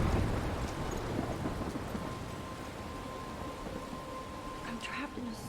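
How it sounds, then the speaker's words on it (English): Thunderstorm ambience with steady broadband rain from the video game Life is Strange, a continuous dense wash at moderate level with a faint low rumble and light tonal game sounds layered over it. "I'm trapped in a storm."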